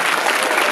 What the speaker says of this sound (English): Round of applause for lovely Janet